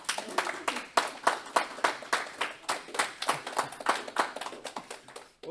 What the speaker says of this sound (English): Warm round of applause to Tanks.